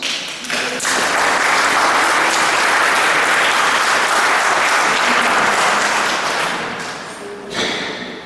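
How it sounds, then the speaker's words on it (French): A parish congregation at a Mass in Cerdon bursts into loud, dense applause that holds steady for several seconds, then tapers off with a brief final flurry of claps. "Applaudissons."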